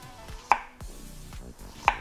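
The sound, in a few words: knife slicing zucchini into rings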